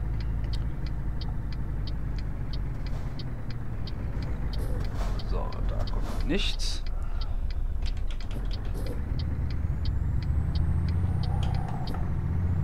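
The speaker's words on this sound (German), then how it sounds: "Aber der hat auch echt einen schönen Motorsound." Steady low rumble of a Scania truck engine in the video game Euro Truck Simulator 2 runs throughout, droning evenly with faint clicks overhead, while someone talks over it.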